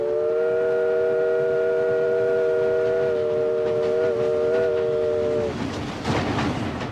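A train runs steadily on its rails, a sustained multi-tone whistle holding for several seconds before cutting off into rumbling, rattling car noise near the end.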